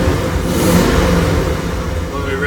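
The V8 304 engine of a freshly restored 1978 Jeep CJ-7 revs with a loud, steady, dense rumble that holds throughout.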